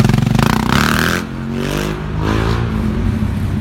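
A KTM motorcycle passes close by while pulling a wheelie, its engine loud and rising in pitch as it approaches, then dropping to a rough, fading drone as it moves away.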